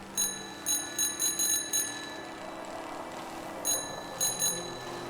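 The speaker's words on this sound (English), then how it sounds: "Ring bell." A bright metallic bell rings in the video game Season: A Letter to the Future, sounding in quick clustered dings, a burst of several strikes, then a pause, then a few more over soft ambient background.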